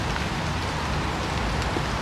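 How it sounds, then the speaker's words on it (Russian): Steady rain patters down in a dense, even hiss with no voices, a continuous wash of drops falling on a nearby surface. "Хотя идет дождь."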